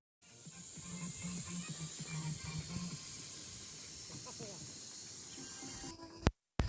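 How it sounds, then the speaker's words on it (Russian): A pressure cooker (kazan) holding Afghan pilaf with basmati rice vents steam before the lid comes off: a loud, steady hiss runs about six seconds, then cuts off abruptly, with faint voices murmuring underneath. "Мы сейчас выпариваем наш пар для того, чтобы можно было открыть крышку."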